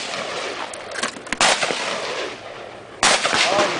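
Bolt-action rifles of the Irish army fire two sharp cracks at a range, the first around the middle and a louder one later, each followed by a lingering outdoor rumble over steady background noise.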